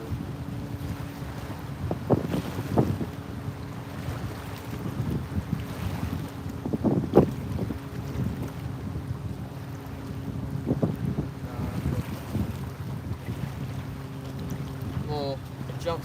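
Wind buffeting the microphone on a river at night while fishing, a continuous low rumble with faint water sounds and a few brief voice-like bursts underneath.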